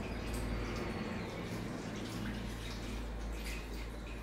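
Water runs steadily from a shower or tap as a face is rinsed at night, a constant close splashing hiss with no break.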